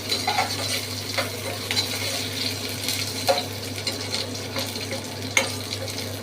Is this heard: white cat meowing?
no